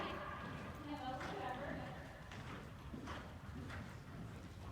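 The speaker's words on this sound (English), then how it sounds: "He definitely is a more willing horse than Boomer is." Horse hooves clip-clop at a steady walking pace, moderately close, while people talk over them throughout.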